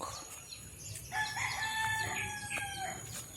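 A rooster crows once in a drawn-out, wavering cock-a-doodle-doo, fairly close, over a low rumbling background with faint bird chirps.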